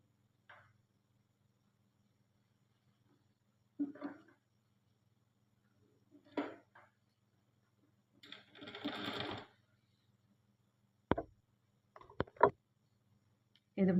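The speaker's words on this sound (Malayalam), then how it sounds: "ഇതുപോലെ സൈഡിലേക്ക് ഫുള്ളായിട്ടൊന്ന് സ്റ്റിച്ച് ചെയ്ത് കൊടുക്കണം നെക്കിൻ്റെ" A sewing machine stitches along the side of a neckline in short separate bursts, close and quiet, with pauses between runs.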